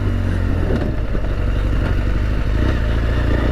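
A motorcycle on a bumpy adventure trail at a festival, heard from the rider's position: a steady, loud engine drone with rattles and clatter from rough ground, continuous and close, with no talking.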